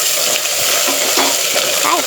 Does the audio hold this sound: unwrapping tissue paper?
no